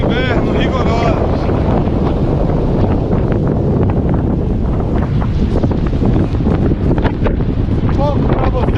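Cold coastal wind on the shore at Prado in southern Bahia roars and batters the microphone over surging sea noise, loud and unbroken, with a few faint high tonal squeaks early and late.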